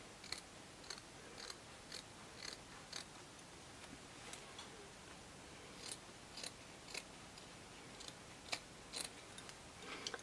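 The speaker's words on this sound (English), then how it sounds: "I'm literally going to go ahead and cut along." Small nail scissors snip through trouser fabric along the crease in a steady series of crisp, close, quiet clicks, roughly one every half second, over a faint background hiss.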